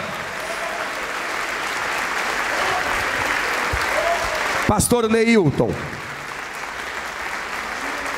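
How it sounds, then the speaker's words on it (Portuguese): A large church congregation applauds steadily throughout, with a voice speaking briefly over the clapping midway. "Vamos aplaudir mais"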